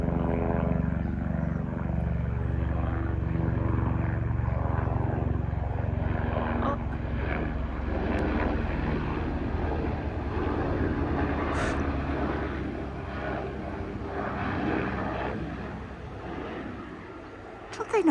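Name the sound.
helicopter flying overhead near Irish cottage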